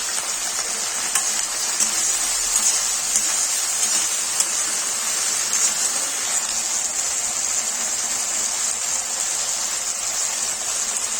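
Fish pieces fry lightly in oil, giving a steady, moderately loud sizzle with a soft crackling texture throughout and no voices.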